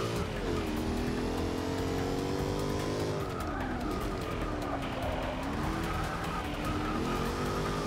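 Tires squeal and skid as a race car drifts through a corner in Forza 6, engine note rising and falling under a loud, continuous screech, with no voices.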